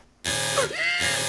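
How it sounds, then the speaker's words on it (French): A harsh, steady electronic alarm buzzer blares loud and close in a French cartoon, cutting in abruptly and holding with warbling tones over it. "Alarme activée."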